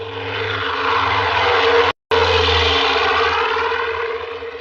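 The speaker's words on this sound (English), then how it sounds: "The plane to Lisbon." A propeller plane bound for Lisbon drones steadily and loudly throughout, with a brief gap of silence near the middle before the engine roar resumes.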